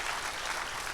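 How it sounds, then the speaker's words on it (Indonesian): A church congregation applauding at an evangelistic service, a brief dense wash of clapping heard alone at moderate loudness. "Tepuk tangan Tuhan Yesus"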